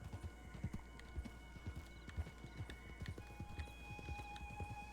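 Horse hooves clip-clop steadily on a ranch road in a western roleplay video game, a run of light, close hoofbeats over a low rumble, with a faint whinny and a sustained tone in the background.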